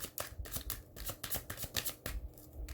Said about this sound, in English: Let me give this a couple of shuffles